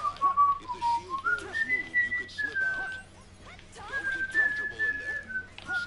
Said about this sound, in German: Pfeifen killt das Mikro.